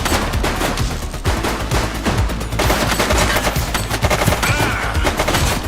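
Dense, continuous bursts of automatic gunfire from a shootout in the video game The Precinct, loud and sustained over a thick layered backdrop, with no talking.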